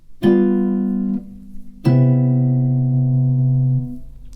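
Two sustained jazz guitar chords ring out one after the other, the first cut short and the second held longer, forming a perfect cadence.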